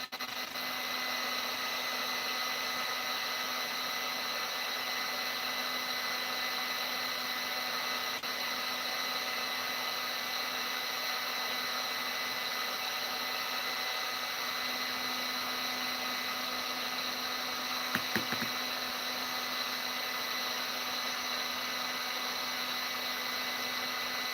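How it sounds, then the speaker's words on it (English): A toaster oven runs steadily after being switched back on to heat up, baking painted fishing jig heads; a constant electrical hum with high whine holds evenly throughout, with one brief click near the end. "toaster oven back on. Let it heat up."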